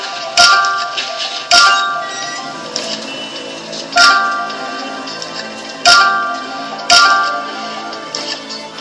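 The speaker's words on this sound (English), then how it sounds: "Clock." Five sharp metallic clock ticks sound at uneven intervals, each bright strike ringing briefly before the next, up close and clear with a faint tonal backdrop.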